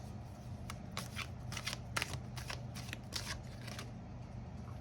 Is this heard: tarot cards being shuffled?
yes